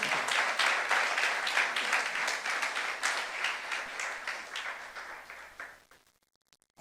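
A church congregation at a youth service applauds, a dense wash of clapping that holds steady and then thins out and stops near the end.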